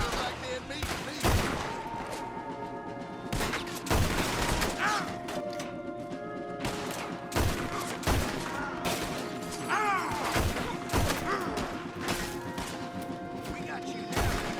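Gunfire in Red Dead Redemption 2, loud repeated shots in irregular bursts with thuds and crashes, mixed with game voices talking throughout.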